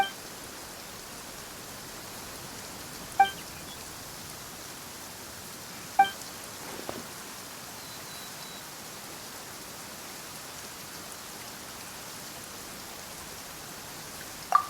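Steady, soft hissing rain in a video game fills the background, with a few faint clicks and taps scattered over it, no voices.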